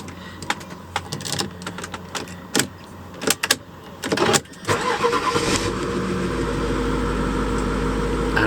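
An Audi A8 D3 fires up after an immobiliser repair: several clicks and clunks, then the starter cranks and the engine catches, settling into a steady, close idle with no talking.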